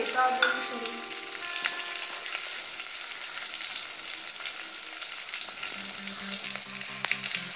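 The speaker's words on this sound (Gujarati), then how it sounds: "હવે એમાં આપણે કાપેલા મરચાં નાખીશું" Chopped chillies frying in a pan for a spinach and potato curry, a loud continuous sizzle and crackle close up, with a few light clinks near the end.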